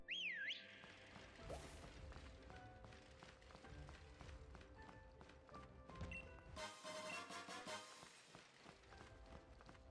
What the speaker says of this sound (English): if you try to do L3, it just has your character do a whistle